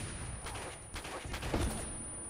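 Sniper gunfire in the video game Uncharted: Drake's Fortune, a few faint distant shots as muffled bursts over a quiet background.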